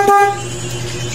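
A motorcycle horn gives one short, bright honk after a wiring harness repair, then drops away into a steady low hum that carries on through the rest of the moment.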